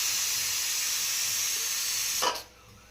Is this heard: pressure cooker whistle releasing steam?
yes